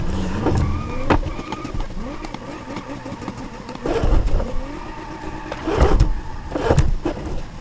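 A car careens along with no working brakes in the BeamNG.drive driving game, its engine droning steadily with revving swells and several loud thuds and crash-like bursts.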